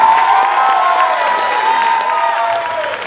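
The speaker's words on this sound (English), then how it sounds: "give her a round of applause" A crowd claps and cheers together, a dense wash of applause with some raised voices, steady and fairly loud.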